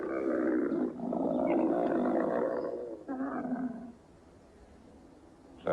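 A camel bellows in a loud, gravelly, drawn-out groan that swells, breaks briefly, then trails off, close and alone.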